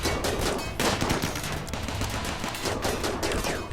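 Gunfire in the colony game RimWorld during a fight with tribesmen: rapid, uneven bursts of small-arms shots crackle continuously at moderate, fairly faint level.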